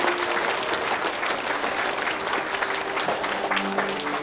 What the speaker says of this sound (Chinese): 掌声鼓励一下他。